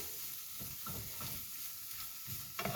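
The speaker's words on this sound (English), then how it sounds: "We just want to thoroughly mix this in for a few minutes till it's well coated" Chicken with lime juice being stirred in a pan, a continuous soft sizzle under repeated low scraping strokes of the utensil, with a clatter at the end and no talking.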